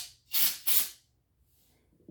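Brake cleaner from an aerosol can hisses in two quick, loud bursts onto a 4-inch rim while a small stiff heavy-duty tire is being fitted, followed by quiet.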